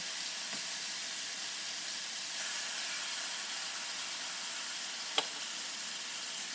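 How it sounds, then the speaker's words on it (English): Chicken pieces in a soup pot, heard as a quiet, steady frying sizzle and soft hiss with a couple of faint utensil ticks, close and continuous with no talk. "As you can already hear, it's simmering down some."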